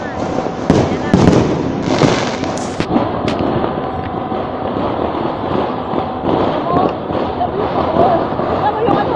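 New Year fireworks burst in the Philippines, with close sharp cracks and booms over a dense crackling backdrop of firecrackers, and people talking nearby.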